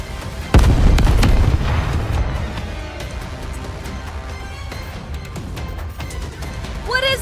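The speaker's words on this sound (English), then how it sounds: "Anti-aircraft guns confirmed." Anti-aircraft guns and explosions from the game Goddess of Victory: Nikke open with a heavy boom, then a rumbling barrage of bursts and pops carries on under voices, loud and close.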